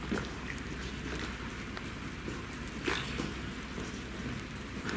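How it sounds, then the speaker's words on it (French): Steady rain hisses continuously in Venice, with scattered drips and patters standing out now and then against the constant wash. "Il pleut."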